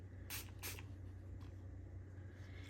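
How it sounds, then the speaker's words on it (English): Two quick hissing bursts of a spray nozzle near the start, then a faint steady background hum. "And now the nozzle is spraying in a circle like the pink one did."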